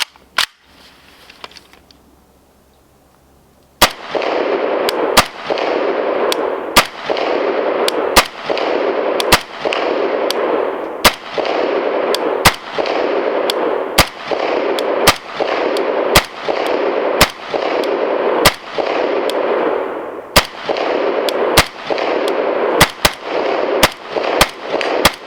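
An Arsenal SAM7K44 rifle fitted with a flash hider fires at a range at dusk, roughly twenty sharp loud shots spaced about a second apart, each followed by a lingering echo.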